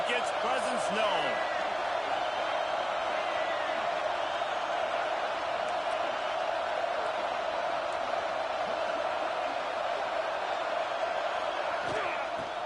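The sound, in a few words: football stadium crowd noise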